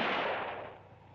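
A single gunshot from a film western, fired as the last shell from a gun: one sharp blast that fades into a long, rumbling decay.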